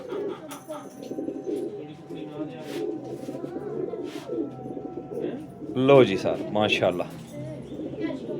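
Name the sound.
pigeon cooing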